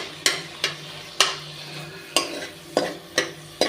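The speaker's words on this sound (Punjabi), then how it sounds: "ਆਪਾਂ ਇਸ ਤਰ੍ਹਾਂ ਕੜਛੀ ਦੇ ਨਾਲ ਨਾ ਮੈਸ਼ ਕਰਕੇ" A ladle mashes cooked tomatoes in a pan for peeling, giving about seven sharp, evenly spaced knocks and scrapes against the metal. A faint sizzle continues underneath, and there is no talking.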